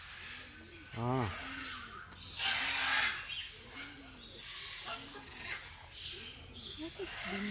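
A parrot at Parrot Mountain and Gardens in Pigeon Forge, Tennessee gives a series of short, rising-and-falling calls at close range, mixed with people talking and rustling background noise.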